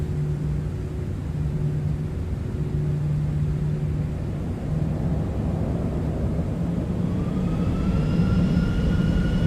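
An Airbus A321 in the X-Plane flight simulator spools up for takeoff on a runway at LAX, a continuous roaring engine rumble with a rising whine building steadily toward the end.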